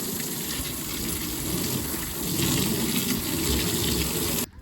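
Water from a hose or tap rinses out a drained water tank, a steady broadband rush and splash that runs continuously for several seconds, close and fairly loud, swelling slightly midway before cutting off abruptly at the end.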